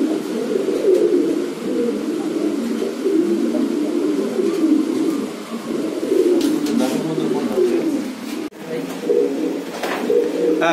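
Restless big-sized male Giribaz pigeons coo steadily and closely in a low, continuous throaty rumble, with soft overlapping calls throughout and no speech.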